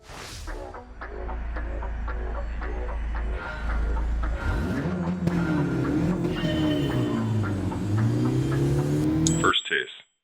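A car driving in a Gran Turismo 7 license test, starting from a low hum and rising into a steady engine note that climbs and falls in pitch, moderately loud, over background game music and ending abruptly.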